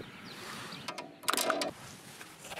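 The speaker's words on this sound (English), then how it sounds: "Torque this bolt to 13 Newton meters." A torque wrench tightens a bolt to 13 newton meters on a Honda Forza scooter's final drive, giving a brief, close burst of sharp ratcheting clicks over a quiet room.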